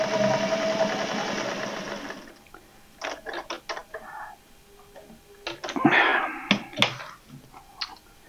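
A sewing machine stitches fabric for a travel thread catcher, giving a close, fast mechanical whirr for about two seconds, then stopping; scattered clicks and handling knocks follow.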